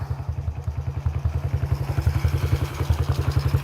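Small Honda CRF50F motorcycle engine running with a steady rapid thumping pulse, its throttle blipped slightly during carburetor cleaning, loud and close with no talk.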